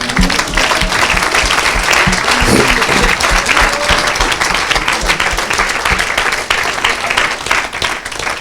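A congregation at a Christian worship and deliverance service applauds loudly and steadily, dense clapping filling the whole stretch with a few voices mixed into the crowd noise.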